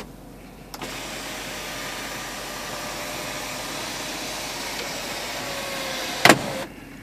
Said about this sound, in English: And the best part, you can go ahead and see the sunroof.